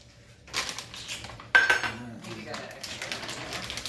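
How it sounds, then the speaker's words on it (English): Half a cup of pecans lands in a small bowl with a couple of close, crisp clattering hits against the dish, followed by lighter rattling. "I'm going to toss them in this little bowl"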